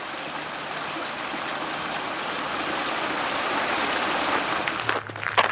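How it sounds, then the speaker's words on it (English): Stream water feeding a water mill in Lillehammer, Norway, a loud steady rushing wash that fills the scene, ending with a few brief knocks. "Comes from the water that's now behind me, feeds into the mill, keeps it going all year round."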